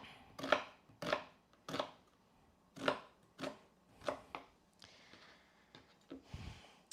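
Chef's knife chopping onion on a cutting board, cutting across the lines of earlier cuts. Crisp, separate knocks fall about every half second, quiet and close, followed by softer handling sounds and faint breathing.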